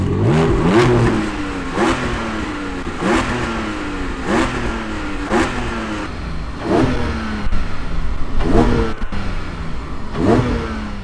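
Porsche 718 Spyder engine pulling hard while driving, revving up through repeated rising sweeps with brief drops between gear changes, loud and close throughout with no talking.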